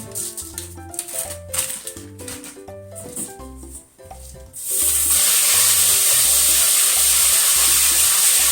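Background music gives way to a steady, loud rush of running water as adzuki beans are washed, continuing to the end.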